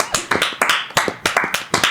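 Sharp hand claps in a podcast studio, roughly a dozen crisp, close slaps in a quick irregular rhythm, each ringing briefly, with no talking over them.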